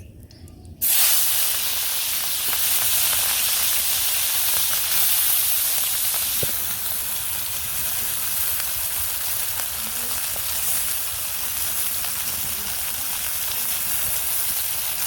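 Fish dropped into hot oil in a pan for a village-style spinach curry gives a loud, steady broadband hiss and sizzle. It starts abruptly and holds close and continuous for the rest of the stretch, with no talking.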